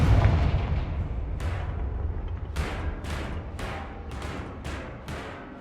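Confringo blasting spell from Hogwarts Legacy going off in a string of sharp booming blasts, about six evenly spaced bursts over a continuous low rumble, loud and close.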